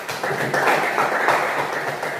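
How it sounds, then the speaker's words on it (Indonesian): Applause from a group in a classroom, a soft, steady patter of clapping that is fairly faint and continuous for a couple of seconds. "Tepuk tangan buat Fitri"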